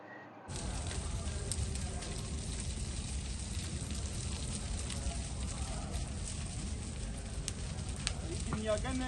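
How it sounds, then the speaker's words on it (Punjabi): Large fire burning inside a government grain warehouse on a roadside, a steady dense crackling roar with hissing, continuous and close for the whole stretch, with faint voices in the background. "ਪੰਡੋੜੀ ਰੋਡ ਤੇ ਪੰਸਰ ਦੇ ਗੋਦਾਮ ਦੇ ਅੰਦਰ ਅਚਾਨਕ ਅੱਗ ਲੱਗ ਗਈ ਹੈ"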